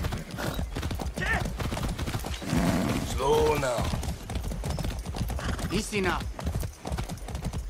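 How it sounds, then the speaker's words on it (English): Horse hooves clip-clop steadily in the Far Cry 6 video game, close and rhythmic throughout, with a horse's whinny partway through and a voice speaking over the riding. "That's a good horse."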